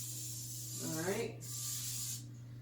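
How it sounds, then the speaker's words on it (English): Cooking spray hissing from a can into a Bundt pan, a steady close spray over a faint background hum with a brief voiced sound in the middle. "When you're spraying a Bundt pan, you gotta make sure you get every piece of that Bundt pan sprayed."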